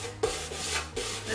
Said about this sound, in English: we're gonna just give it a quick sand to get any scuffs or any, you know, existing paint off